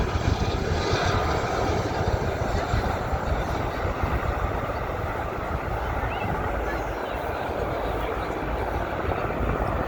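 A Gazelle helicopter lands at an air show, giving a steady, loud rotor and engine roar that stays constant throughout, with people talking nearby.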